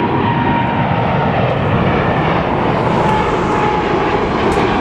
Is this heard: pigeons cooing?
no